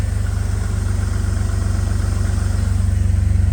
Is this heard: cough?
no